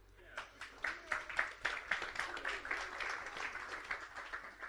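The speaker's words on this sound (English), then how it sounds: "Give yourselves a round of applause." A conference crowd at a DevOps event gives a round of applause. The clapping is brisk and fairly quiet, builds quickly, then thins out over several seconds, with voices mixed underneath.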